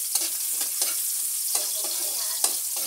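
Garlic and onion sautéing in a pan for ginataang pusit, a bright hiss of frying with a handful of quick stirring scrapes at irregular intervals, up close and free of speech.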